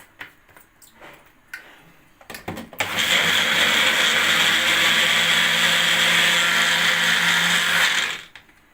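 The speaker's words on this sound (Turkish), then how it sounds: "bunları şimdi bir blenderdan geçireceğiz" A small kitchen blender whirs steadily through soaked lentils, starting abruptly after a few clicks and handling noises and running loud and continuous for about five seconds before cutting off.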